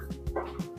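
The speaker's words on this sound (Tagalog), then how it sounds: "narinig niyo yung aso nag-aaway" Brief yelps and whimpering growls from two puppies scuffling, short and somewhat distant, a few quick squeals in under a second.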